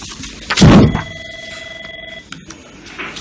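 A telephone rings once with a loud burst followed by a sustained electronic tone, as a devotee calls in to a Tirumala Tirupati temple information phone-in programme.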